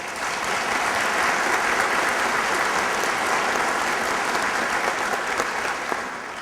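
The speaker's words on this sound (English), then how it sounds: "And you can hold your applause" Steady, dense applause from a church congregation during a centennial anniversary Mass, filling the space evenly and continuously with no voices rising above it.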